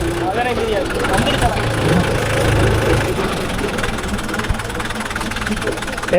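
A Mahindra 415 DI diesel tractor engine chugs steadily up close with a rough, knocking idle and a loud, continuous rumble throughout.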